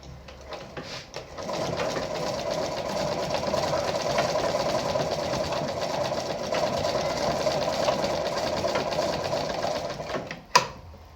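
A Lada 237-1 sewing machine runs a straight stitch at a long stitch length. It gives a steady, close motor whir with quick rhythmic needle ticking for about nine seconds, then stops with a single sharp clack.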